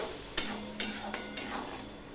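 Hilsa fish curry masala with chili powder being sautéed in a pan, with four evenly spaced spatula scrapes over a soft, steady sizzle and no talking.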